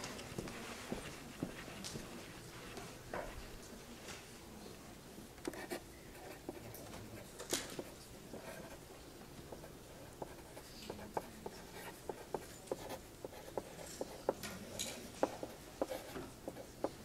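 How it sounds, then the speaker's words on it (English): Chalk or marker scratches and taps on a board during a glacier science lecture, a faint, irregular run of short strokes and clicks in a quiet room with no talking. "let me write this down"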